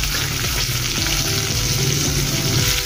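Chopped onions and green chillies fry in hot oil in a pan for an aloo baingan sabji, a loud, continuous sizzle with faint stirring scrapes, no voices over it.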